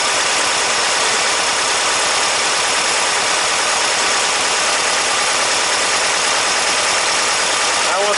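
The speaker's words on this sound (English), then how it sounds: "And you notice there's the idle change again." Dual EMPI 40HPMX carburetors on an air-cooled engine hold a steady, close idle for the full stretch, with the idle speed shifting slightly partway through and a voice talking over it.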